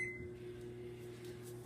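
A microwave oven hums steadily with a Lay's chip bag inside, a constant low drone with no pauses, fairly faint and heard alone.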